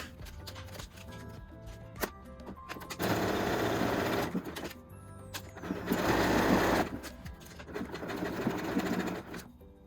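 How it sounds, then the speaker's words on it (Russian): A sewing machine stitches elastic on Brazilian-style lingerie, its rapid mechanical chatter running in steady bursts that speed up and pause, with small handling clicks between runs. "начинаем шить, потом мы развернем и сделаем вот здесь общую закрепку"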